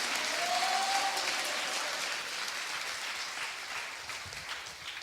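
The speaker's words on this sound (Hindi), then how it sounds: "क्यों ना उस यीशु मसीह के लिए जोरदार तालियां बजाकर धन्यवाद करें।" A church congregation claps loudly in steady, dense applause that continues for several seconds with no speech over it.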